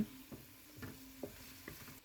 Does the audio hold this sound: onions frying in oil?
yes